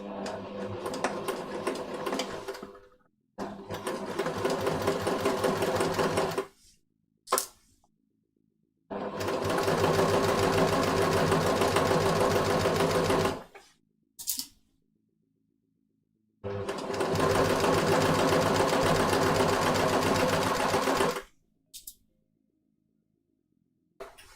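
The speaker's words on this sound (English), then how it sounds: "I'll just triple check it before I sew the real thing" Sewing machine stitching a pin-tuck shirt placket, running in three long loud bursts of rapid whirring separated by silent pauses and a few short clicks.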